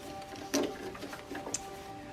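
A sewing machine stitches a puffy coat around a curve, giving a faint, brief run of quick mechanical ticks and clicks with two slightly louder taps.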